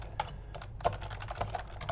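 Keys on a computer keyboard clatter in quick, uneven taps as a text message is typed, close and fairly quiet.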